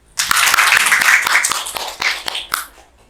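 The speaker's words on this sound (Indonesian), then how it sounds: "Tepuk tangan dulu." Classroom applause: a short burst of students clapping, rising quickly, staying lively for about two seconds with a few sharper individual claps, then trailing off into quiet.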